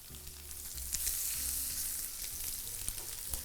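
Scallops searing in a hot pan, a soft steady sizzle with occasional small pops and crackles, fairly quiet and continuous with no speech.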